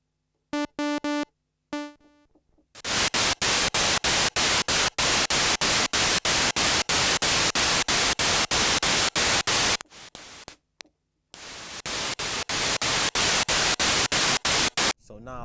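A Moog Messenger synthesizer produces bursts of white noise, gated into rapid rhythmic pulses that stutter on and off. A few short tonal blips come before the noise begins, and no one speaks.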